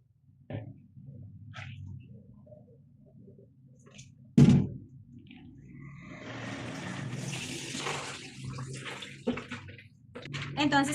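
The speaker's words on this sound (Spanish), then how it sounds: "vamos a darle nuevamente más agua para sacar las impurezas que aún le quedan." Water pours into a container of maize kernels being rinsed to remove impurities, a steady splashing stream after an opening thud, with brief handling knocks and no talk over it.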